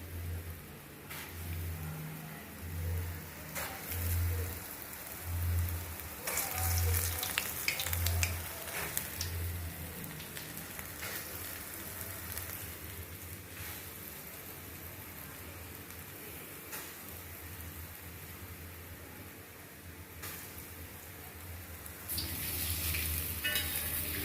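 Paal paniyaram deep-fry in oil over a low flame, a soft continuous sizzle with a low repeating hum and occasional clinks, no one speaking.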